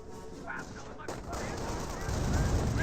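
Machine gun fire from the World War II strategy game Company of Heroes, heard as a dense, steady crackle of rapid bursts that grows louder toward the end, with game battle noise around it.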